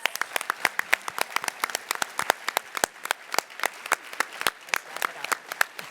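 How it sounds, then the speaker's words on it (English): Steady audience applause at a gala honoring young people, with distinct individual claps close to the microphone ringing out over a softer crowd wash, fairly faint, with no talking. "So a round of applause for all the young folks caring."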